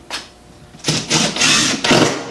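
Power drill driving a 2-inch screw into a wooden furring strip fixed to a wall, heard as a loud close whirring in several bursts that rise and stop.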